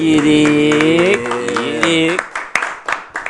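Audience applause at a live show breaks out under a host's loud voice, then continues alone as scattered, sharp claps that fade out near the end.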